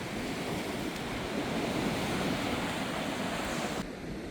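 Sea waves and gusty wind on a rocky coast at the cliffs of Shevchenko, making a continuous loud roar of surf with wind buffeting the microphone and no voices.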